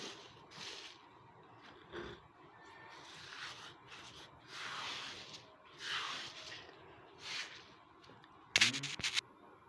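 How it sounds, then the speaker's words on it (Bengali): Eggshells ground on a flat stone slab, giving repeated close rough scraping and rubbing strokes in uneven bursts, with a brief sharp clatter near the end. "দেখুন এই সবগুলো ডিমের খোসা আমি পাটায় বেটে ফাঁকি করে নেব।"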